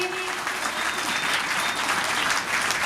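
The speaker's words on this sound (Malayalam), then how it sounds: "ഒരു നല്ല കയ്യടി കൊടുത്തേ KGയിലെ എല്ലാ കുട്ടികൾക്കും വേണ്ടി" An audience at a school annual day claps for the kindergarten children, dense sustained applause filling the hall throughout.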